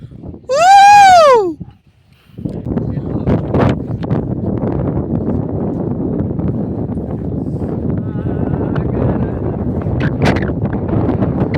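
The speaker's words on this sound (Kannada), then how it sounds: "ಸಖತ್ ಗಾಳಿ ಬೀಳ್ತಾ ಇದೆ" Strong wind roars steadily against the microphone on a mountain trek after a brief high, wavering tonal call at the start, a continuous loud rush with gusty swells.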